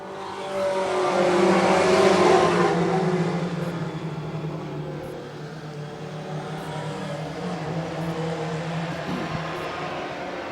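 Four-cylinder pro stock race cars at Brackett's Market event roar past on the track, engines loud and sustained, swelling as a pack nears then holding a steady drone with no talk.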